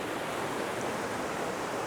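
A waterfall by a bridge in Luxembourg gives a steady, dense broadband rush of falling water, constant and fairly loud throughout with no voices.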